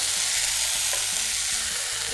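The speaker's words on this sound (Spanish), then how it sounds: "Voy a saltear esto." Vegan rolls sauté in a hot pan with a loud, steady sizzle and crackle of frying that fills the whole moment, with faint low stirring knocks underneath and no voices.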